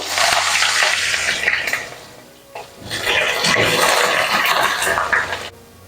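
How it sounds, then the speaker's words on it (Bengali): Eggplant pieces dropped into hot oil in a pan where homemade lentil dumplings were just fried, a loud steady sizzle and crackle with one brief dip before it surges again. "এবার এর মধ্যে আমি দিয়ে দেবো বেগুনগুলো, একটু ভেজে নেব।"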